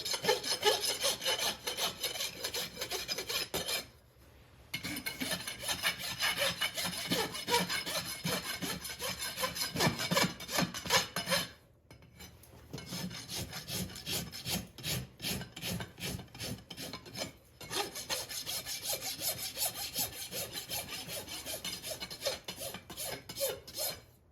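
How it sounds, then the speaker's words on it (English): A farrier's rasp smoothing the nail clinches on a horse's hoof at a shoeing contest: long rhythmic scraping strokes, loud and close, continuing with two brief pauses. "Now we'll rasp our clinch smooth."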